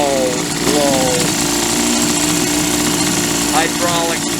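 A 1952 Champion hydro drive outboard motor on an Old Town square-stern boat, running at very low speed with a loud, close, continuous rapid chugging, while someone talks over it.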